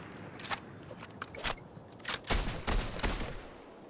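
Scattered gunfire in Fortnite, a few sharp distant shots early and then a denser burst of louder shots near the end, with no talk over it.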